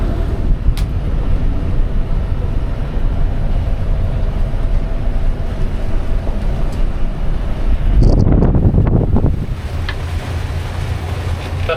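Strong wind of about 23 knots in a marina at Le Marin, Martinique, a constant loud buffeting rumble across the whole stretch, with a brief burst of rattling and clanking near the end.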